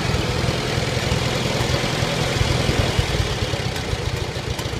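Farmall Super C tractor engine idling steadily with a low, even rumble and dense vibration, held back by its governor while throttled down, loud and continuous without pauses.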